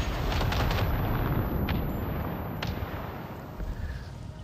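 Machine gun fire in Avatar: Frontiers of Pandora rattles in a loud, dense, sustained burst that fills the scene, easing slightly toward the end, with a few sharper cracks standing out.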